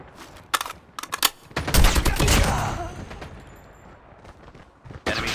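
Rapid bursts of DR-H assault rifle fire in the shooter game COD Mobile, loud and close, with volleys of shots clustered in the first half and trailing into scattered single cracks.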